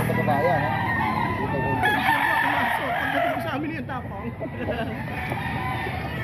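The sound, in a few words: rooster crowing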